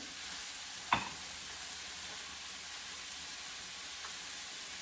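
Steady frying sizzle of green cabbage in a pan, with one sharp tap or crack near the start as egg goes in, then an even hiss with a faint clink later on.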